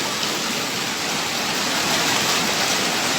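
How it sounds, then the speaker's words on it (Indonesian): Strong floodwater rushes through Indra Makmu, East Aceh, during severe flooding, a dense, steady roar of churning water that stays loud and constant throughout, with no voices over it. "air semakin deras. Airnya sangat deras."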